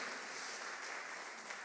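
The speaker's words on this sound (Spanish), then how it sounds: "Si le va a dar un aplauso, déselo fuerte." A sermon audience applauds, a steady wash of clapping heard from some distance and fairly faint, with no voices over it.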